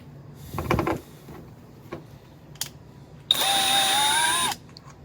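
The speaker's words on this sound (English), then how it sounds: "It'll speed up the process if you've got a 10mm socket." A power tool, likely a drill or impact driver, runs a 10mm socket on the headlight and grille bolts of a Ford Super Duty. It gives one sustained whirring burst of about a second, with a few brief clicks and clatters before it.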